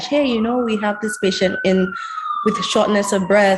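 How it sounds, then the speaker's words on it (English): A siren wails far off in the background, a slow rising and falling tone held under close, continuous talk from a doctor. "There's actually some irony hearing that siren right there."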